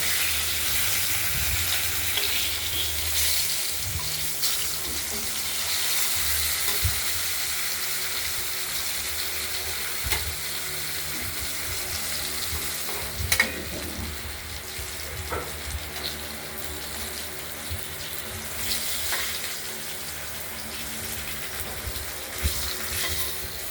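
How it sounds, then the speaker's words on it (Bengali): Cut rohu fish pieces fry in hot oil, a steady, moderately loud sizzle running the whole time with scattered pops and utensil knocks, and no one speaking. "মাছটা ভাজা হোক"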